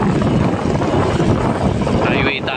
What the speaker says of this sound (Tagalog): Medyo mahangin pero okay lang